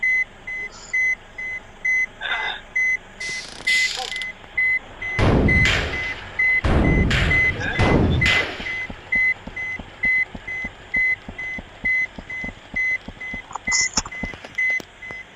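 Repeated electronic reversing beeps from buses being parked in the Bus Simulator Bangladesh game, sounding in an even on-off rhythm, with a louder burst of engine and horn noise partway through.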